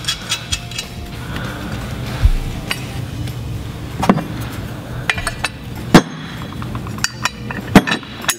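Short metal bolts fitted through an aluminium boom bracket on a Hagie 360 Y-DROP setup, giving sparse, sharp metallic clinks and taps at irregular intervals, close by, over low background noise.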